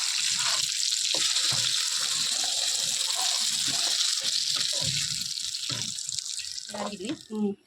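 Tap water runs steadily while a glass is washed at a kitchen sink, a continuous close gush with small clinks and handling noises, with people talking.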